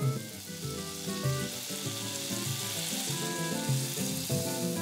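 Spinach sautés quickly in a hot pan, a steady loud sizzle and crackle throughout, with music playing underneath.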